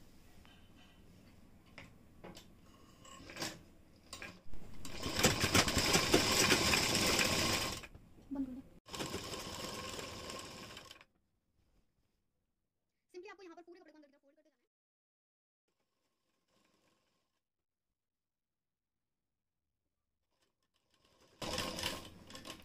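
A sewing machine stitches the folded side slit of a kurti in a few short close bursts of rapid whirring, followed by long quiet gaps with a faint clink and a brief final run.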